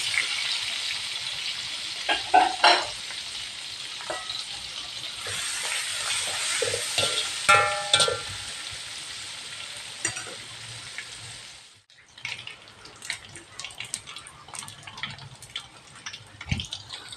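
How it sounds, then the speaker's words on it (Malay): Anchovies (ikan bilis) frying in a pan, a loud continuous sizzle with scattered crackles and stirring clatter that cuts off abruptly, leaving quieter scraping and pops. "Okey, kita goreng ikan bilis."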